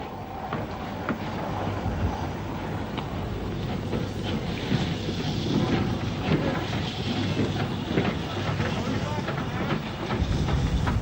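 A Manor class steam locomotive shunts at Whitchurch in 1964, a rough, steady rumble of working steam heard from a distance under heavy wind noise.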